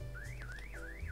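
An alarm in the game Klepto sweeps up and down in repeated wailing siren cycles, steady and moderately loud over low background hum.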